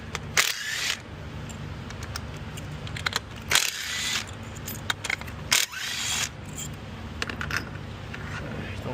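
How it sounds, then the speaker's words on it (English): Bolts being loosened and pulled out on a 2014 Volkswagen Jetta during spark plug and air filter work, with three sharp metallic clatters and bursts of clicking over a steady low engine-bay hum, close by and with no talking. "start taking your bolts off"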